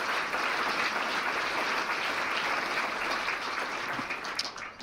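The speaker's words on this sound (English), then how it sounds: "please give them a round of applause" An audience at a State of the City event in Nampa claps steadily, a dense, sustained wash of applause that stays loud throughout and begins thinning slightly near the end.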